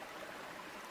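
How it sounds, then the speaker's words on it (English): Strawberry Creek in the San Bernardino National Forest flows during a severe drought, a soft, steady wash of running water heard faintly and continuously. "it's flowing water even in this severe drought that we've had"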